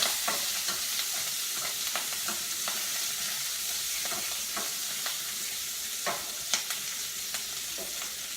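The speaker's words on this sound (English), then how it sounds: "these are going to pop a little bit since they have moisture in them" Brussels sprouts sautéing in a hot pan, a steady broad sizzle punctuated by scattered sharp pops and crackles from their moisture, with occasional stirring, close and alone without speech.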